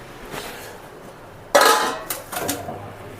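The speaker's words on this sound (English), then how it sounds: "cover the pan now" A metal lid is set down over a cooking pan while pumpkin hotchpotch cooks, giving a loud clanking clatter followed by a couple of lighter rattling clinks, close by with no talking.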